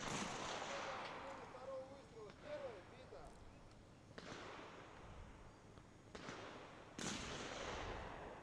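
Shotgun shots ring out at a clay target shooting competition, a few sharp cracks spaced seconds apart over steady outdoor noise, with voices faintly in the background.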